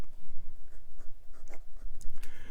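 A Penbbs 495 piston-filler fountain pen nib scratches across paper in quick, close strokes, a dry rhythmic scribbling that is clear and near.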